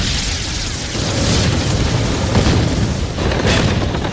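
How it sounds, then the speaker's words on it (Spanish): Continuous rumbling booms and bursts of explosions on a World War II Pacific tank battlefield, dense and loud with overlapping blasts and no talk. "Explosiones y estallidos iluminan el campo de batalla."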